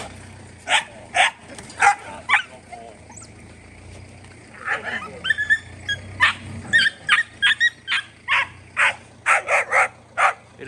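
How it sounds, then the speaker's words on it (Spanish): Several ranch dogs herding young bulls bark in short bursts, a few at first, then a rapid cluster of barks and yips close by. "Ahí los perritos nos han andado ayudando porque cuando necesitábamos arriarlo, ahí estaban ladrando."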